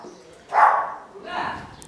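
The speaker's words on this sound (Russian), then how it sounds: "моя собака гавкает" A dog barks twice at home in southern Spain, two short, fairly close yaps about a second apart over a quiet room background.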